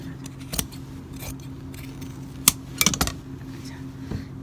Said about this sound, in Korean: 뒷판도 올리는 선을 따라서 잘라줍니다.